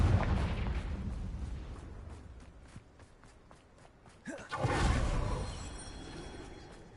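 In the Hogwarts Legacy video game, a Confringo fire-blast spell erupts as a sudden whooshing burst and explosion midway, preceded by rhythmic footsteps and light ticks, with a rumbling tail afterward.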